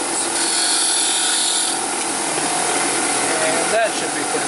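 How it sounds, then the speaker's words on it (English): A bench-mounted wire wheel spins against a small metal part held lightly to strip away the last burrs, giving a steady, loud abrasive whir with a brief louder scrape near the end. "On the wire wheel, I'm just going to get rid of any final burrs."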